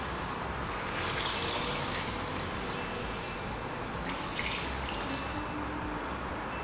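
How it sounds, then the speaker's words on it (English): Cold tap water poured over roasted beef bones in a pot, a steady hissing pour that runs the whole time without a break, soft and close, with no talk. "we're just going to top up with a little bit of cold water from the tap. Pour that all over there."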